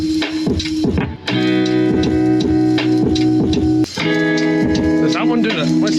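A song plays loudly through newly fitted truck speakers, a steady rhythmic music track with strong tones and repeating beats, briefly dipping twice as it continues.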